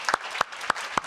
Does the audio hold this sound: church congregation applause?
yes